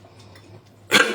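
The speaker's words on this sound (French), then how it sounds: "Insultez ma toux, je m'en fous, c'est la saison." One sharp cough bursts out near and loud at the end, after a stretch of quiet room tone.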